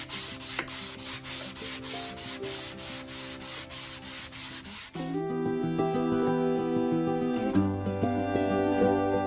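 Rhythmic back-and-forth hand sanding of a 1966 Mustang body using 220-grit paper wrapped on a paint roller cover, steady close strokes for about five seconds, followed by a tonal hum that carries on to the end.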